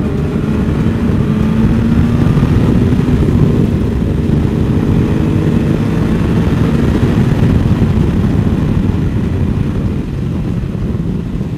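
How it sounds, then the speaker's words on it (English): A 2024 BMW M1000R motorcycle engine runs loudly and steadily at close range, a continuous deep throb with a low droning hum holding for the full stretch and no talking over it. "I love the sound of that engine."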